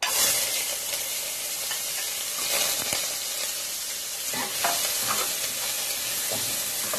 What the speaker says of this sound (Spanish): aquí tenemos calentando el aceite y vamos a agregar la cebolla y los ajos